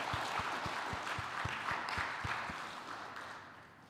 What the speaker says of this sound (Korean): 다시 한번 우리 호산나 찬양대에게 다시 한번 박수로 격려하도록 하겠습니다.